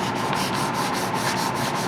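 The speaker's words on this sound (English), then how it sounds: "I'm going to be using some 400 grit paper at first, and then some 1200 grit paper to get the fine sanding down" Steady scraping of 400 grit sandpaper rubbing across a primed starboard nacelle part of a scale model, with a rapid even back-and-forth rhythm, close and continuous, with no voices.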